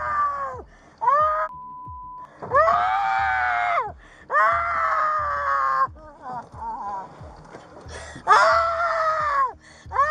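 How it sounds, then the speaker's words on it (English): A woman screams and wails in repeated long, loud bursts during a police arrest beside a car, with brief gasps and pauses between cries. "Talk about a screaming fit."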